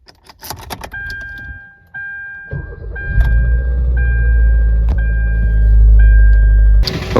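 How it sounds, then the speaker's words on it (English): Keys jingle, then a chime beeps steadily as a car engine with an oil leak cranks, catches and settles into a loud, steady idle. "the first thing I want to do is turn it on so you can hear the sound"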